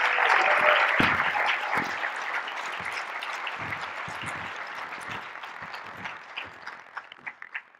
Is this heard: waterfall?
no